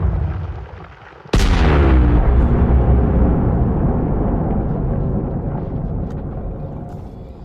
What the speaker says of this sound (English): Oh, should watch the explosion.